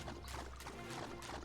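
Flowing water in the Cat Quest 2 video game, a steady soft splashing and trickling wash, faint and continuous with no talking.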